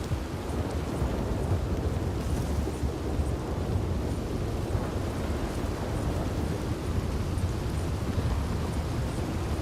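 A steady roar of a thunderstorm with rain and wind in Red Dead Redemption 2 fills the whole stretch, dense and constant, with a deep rumble underneath.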